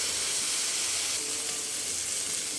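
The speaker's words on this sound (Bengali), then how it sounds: "মশলাগুলো ভাজা হয়ে গেলে সামান্য পরিমাণ পানি দিয়ে দিব মশলাটা কষানোর জন্য" Spices fry in a pan with a splash of water added for a chicken bhuna, giving a continuous bright hiss and sizzle, steady and close with no talk.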